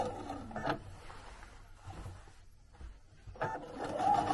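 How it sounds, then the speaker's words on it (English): A domestic sewing machine stitches a quilting curve on fabric with needle-down stops, its motor whirring in short bursts separated by pauses, fairly quiet and close. "I just do a needle down the same way I did on the sage green leaves. And stitch around my curve."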